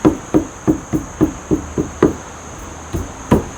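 A wooden mallet taps repeatedly on flowers laid over a bedsheet, giving about a dozen close, sharp knocks at a fairly even pace with a short pause near the end.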